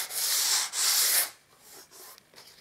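Sandpaper of P180 grit rubs lightly by hand along a skirting board edge, two long loud strokes followed by softer, shorter passes close by.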